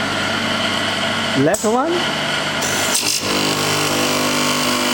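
The motors of a wood dowel double end chamfer machine run with a steady, even mechanical hum and whir throughout, with a short spoken exchange partway through.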